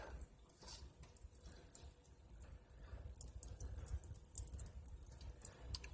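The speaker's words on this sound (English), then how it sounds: "despite all of this water flowing out" Water from the air conditioning drain line of a 2005 Chrysler Sebring Convertible splashes and trickles steadily close by, a continuous gurgling drain flow with scattered drips and no voices.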